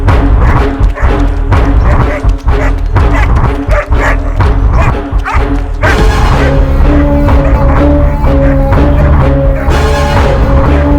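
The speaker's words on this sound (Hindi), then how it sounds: "ये आखिर इतना क्यों भौंक रहा है?" A dog barks repeatedly in rapid yaps and yips, loud and close, mixed with busy music and sound effects that swell into a sustained musical passage halfway through.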